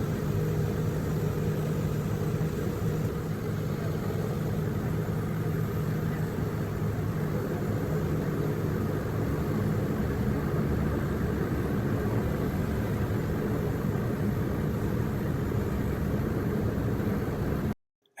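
A floatplane taxis across the water back toward a dock in Alaska, its engine a steady, moderate drone with broadband wind-like hiss, continuous and unchanging until an abrupt cut at the end.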